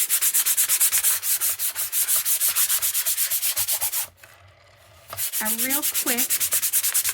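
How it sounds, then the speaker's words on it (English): Rapid rhythmic rubbing strokes of a sanding sponge scrub back and forth across a surface, pausing briefly before resuming, with a short spoken remark near the end. "This is just a sanding sponge,"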